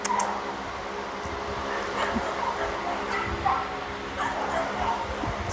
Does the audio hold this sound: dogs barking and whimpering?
yes